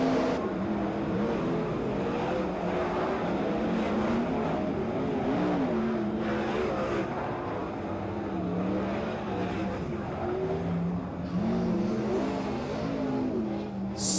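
410 sprint cars race around Watsonville Speedway, their engines producing a continuous loud, throaty roar with rising and falling revs as the pack circles the track.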